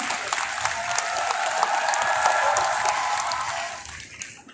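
A large audience at a school career motivation seminar claps steadily for several seconds, dense and even, then fades out toward the end.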